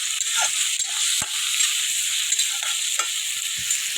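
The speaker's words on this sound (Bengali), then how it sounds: "এখন আমি গরম মশলা দিয়ে নামিয়ে ফেলব নাড়াচাড়া করে নামিয়ে ফেলব" Egg curry with garam masala sizzles steadily in a pan as it is stirred, a constant close frying hiss broken by a few soft spoon scrapes and taps, with no voices.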